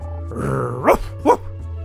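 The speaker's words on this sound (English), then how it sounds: "This is my dog, Paprika." Paprika, a dog in the Mega Man Legends video game, gives two short, gruff barks over a low game hum, preceded by a brief growl.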